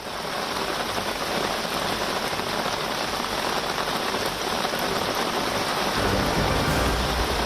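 Heavy monsoon downpour in Maharashtra, a dense continuous roar of rain hammering surfaces, loud and unbroken with a faint low rumble beneath.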